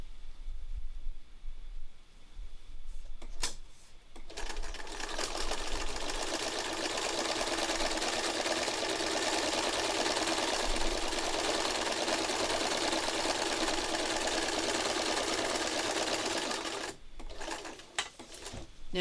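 A sewing machine fitted with an applique open toe presser foot stitches in a steady, rapid mechanical whir for most of the stretch, with a few clicks at the start and end.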